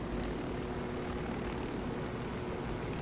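Helicopter flying in the video game Ghost Recon Wildlands, a steady loud rotor and engine drone holding at an even level for several seconds, with no talk over it.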